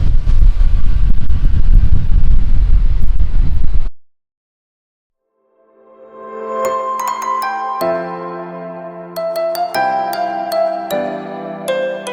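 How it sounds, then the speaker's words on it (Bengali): Strong sea wind at Shankarpur buffets the microphone as a loud, rough roar for about four seconds, then cuts out abruptly, and chiming music follows. "এখানে, প্রচন্ড হাওয়া হচ্ছে সমুদ্রের পাশে।"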